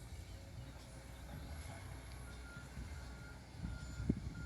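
Faint reversing beeps sound from a tronton truck and a small dump truck unloading fill soil at a Jogja–Solo toll road construction site, heard at a distance over a low rumble of engine and site noise.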